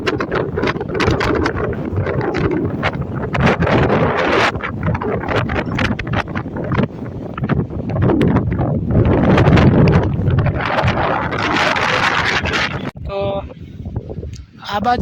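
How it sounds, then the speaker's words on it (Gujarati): Gusty wind rumbles and buffets against the microphone, with a voice talking over the noise. "વાયરો થોડો ધીમો થયો છે"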